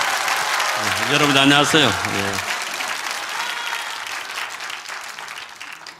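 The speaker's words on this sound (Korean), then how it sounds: "다시 한번 박수로 맞이하겠습니다." An audience claps steadily to welcome a speaker at a political gathering; a man greets the crowd briefly over the applause, which then fades gradually.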